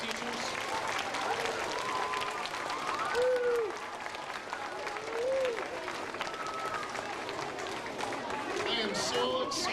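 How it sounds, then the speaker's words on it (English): Loud, sustained audience applause filling a school music event for music teachers, dense clapping with crowd chatter and voices underneath. "Would you please give a nice round of applause to all your great music teachers?"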